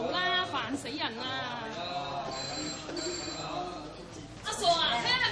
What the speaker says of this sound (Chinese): 听系咪阿爸打电话嚟？